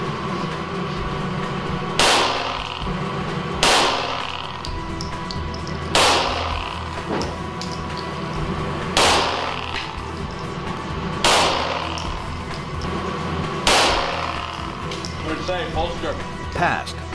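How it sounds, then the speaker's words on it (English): Five 9mm full metal jacket rounds fired one at a time into commercial glass coated with 15 mil C-Bond window film, each a loud sharp crack at intervals of a couple of seconds, with a steady background hum between shots. "5 full metal jacket 9mm rounds."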